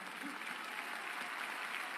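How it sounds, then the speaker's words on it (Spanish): An audience applauds maestro Alberto de la Rosa at a book presentation, a steady wash of clapping heard from a distance, fairly faint throughout. "Un aplauso para el maestro Alberto de la Rosa"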